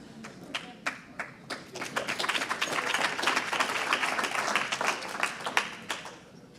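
Applause from an audience at an awards presentation, starting as scattered claps and swelling into a dense, steady wash of clapping across the room.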